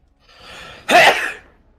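A single sharp sneeze bursts out after a short breathy inhale, loud and close, with no talking over it.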